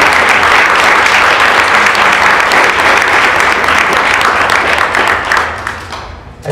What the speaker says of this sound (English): Olga Jimenez de Wagenheim, who I think we should give a round of applause for.